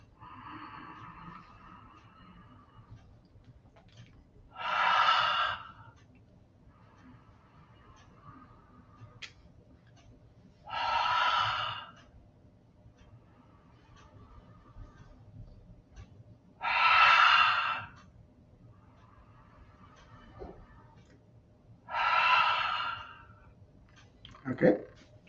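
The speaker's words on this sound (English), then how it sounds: "Those are three warm-up breaths." Four deep warm-up breaths are taken at a slow, even pace, each a loud, long breathy exhale through the mouth spaced several seconds apart, with soft quiet inhales between them.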